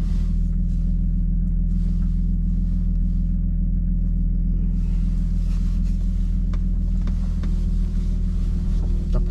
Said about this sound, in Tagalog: Magpa-appointment ako para i-fix tong exhaust pipe ko na problema ko dito na maingay.